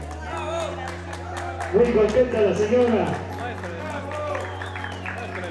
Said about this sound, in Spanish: Unos aplausos por ese gran premio.